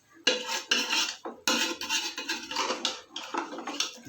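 A spoon stirs and scrapes paya (goat trotters) in a metal cooking pot, producing repeated rhythmic clanks and scrapes. The sound is close and moderately loud, with no talking.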